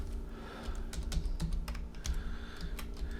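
Rapid typing on a computer keyboard while entering a name into 3D animation software, a steady patter of close, clear key clicks with no voices.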